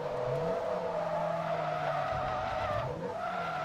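Tires squeal continuously as a car slides and oversteers in the Forza racing video game, a loud sustained screech with shifting pitch and engine tone underneath, no talk.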